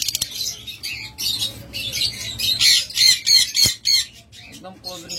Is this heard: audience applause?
no